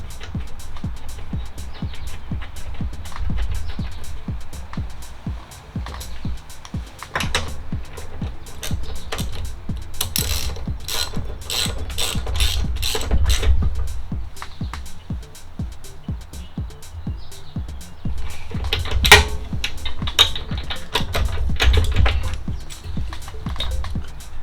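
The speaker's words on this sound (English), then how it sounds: "reuse that plug the way it sits. Get her all threaded back in there" A spark plug is threaded back into a snowblower engine and tightened, giving a long run of small metallic clicks and ratcheting ticks, close and moderately loud, with occasional louder bursts and no speech.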